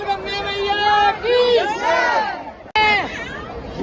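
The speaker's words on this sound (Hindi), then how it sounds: "भीड़ बहुत सारी।" Large outdoor crowd gathered at a song shoot in hot weather, a dense babble of many voices and shouts close by, briefly cut off before resuming.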